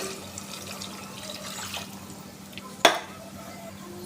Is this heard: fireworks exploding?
no